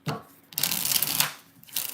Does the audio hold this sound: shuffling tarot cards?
yes